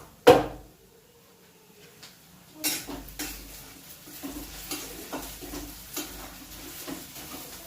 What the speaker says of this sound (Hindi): अब बस उसी में थोड़ा सा और तेल डाली, तेज पत्ता, जीरा और मिर्चा, प्याज, इससे तड़का दे दी थी